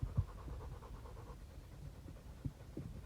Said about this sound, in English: My dog's panting really heavy, making the camera shake.